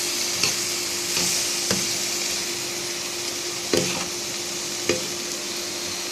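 Whole spices and turmeric fry with a steady close sizzle in a pan, while a spoon stirs and scrapes against the metal in several sharp knocks spread through the frying.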